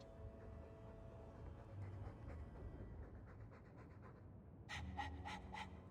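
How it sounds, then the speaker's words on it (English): A dog in the game Dragon Age II pants steadily in quick, soft breaths, close and continuous under a quiet game ambience. "All that noisy dog breath, day in, day out."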